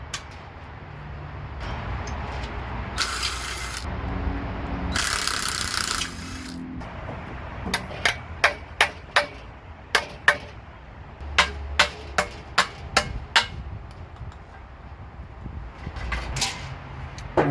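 Ratchet work on the four 12mm bolts holding the throttle body of a 2001 Honda Accord: a run of sharp, evenly spaced metallic clicks in bursts, close up, with a few louder scraping and clunking handling noises earlier and no talking.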